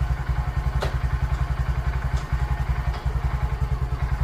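A 2020 Honda Grom motorcycle idles up close with a fast, steady, even thumping beat and a few light clicks above it.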